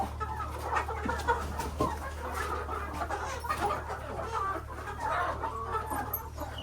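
Chickens cluck at a village meat feast, a steady busy background of fowl calls over a low constant hum, with no clear talk.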